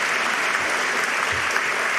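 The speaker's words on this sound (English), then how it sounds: "It doesn't require applause." Steady applause from a crowded audience at a spring graduation ceremony, dense even clapping that fills the whole brief moment without pause.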